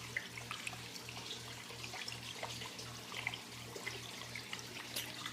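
Water flowing steadily through an aquarium sump overflow after the pumps restart, a faint continuous trickle and splash over a low, rhythmically pulsing pump hum.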